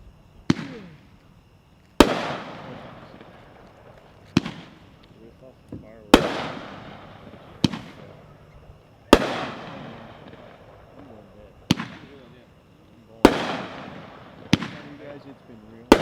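A 15-shot General Patton consumer fireworks cake, packed four to a case, fired at a National Fireworks Association convention demo: about ten loud, sharp reports at uneven intervals, each trailing into a crackling, fading tail.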